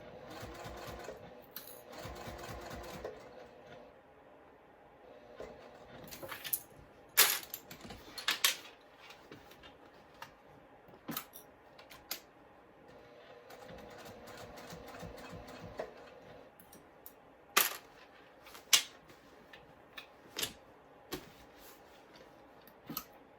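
A domestic sewing machine stitches thick vinyl in repeated bursts of rapid mechanical chatter, broken by pauses and a few sharp clicks. It sounds close and moderately loud, with no talking.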